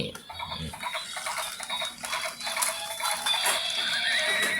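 A toy pony gives off an electronic horse neigh and whinny, with faint clip-clop hoofbeats, playing steadily and fairly loud close by.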